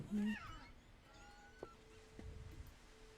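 A cat in the video game What Remains of Edith Finch gives one short, clear meow at the very start, followed by quiet in-game ambience with soft tonal hums.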